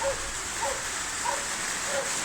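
Steady rain hisses outside without letup, with a few soft chirping tones faintly above it, while Kangal dogs shelter indoors.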